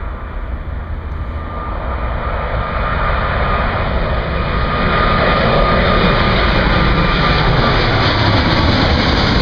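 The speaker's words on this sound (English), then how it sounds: "Preparing for takeoff. I think it's a 777. That's Cathay Pacific." A Cathay Pacific Boeing 777 jet taking off, a loud, steady broadband engine roar that builds gradually and stays powerful throughout, with no voices.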